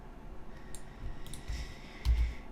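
A few soft, close mouse clicks tap sparsely over a quiet background during computer work in Blender.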